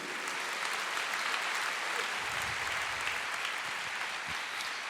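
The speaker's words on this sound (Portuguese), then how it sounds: "Aplauda ao Senhor" A church congregation applauding together in worship, a dense, sustained wash of clapping that stays even throughout.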